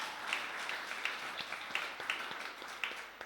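A church congregation applauds at a Sunday service, a faint, distant patter of scattered claps that continues steadily for a few seconds without talk.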